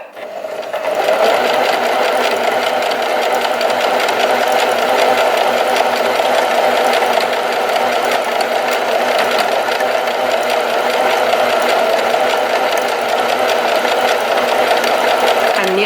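A basic sewing machine runs steadily while overcast-edging a T-shirt sleeve, a fast continuous whirring hum with rapid needle ticking, loud and close for about fifteen seconds without a break.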